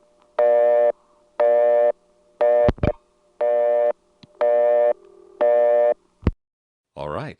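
A low busy tone from an XY step telephone exchange in Lexington SC sounds in repeated evenly spaced bursts, with a couple of clicks and a brief different tone between them.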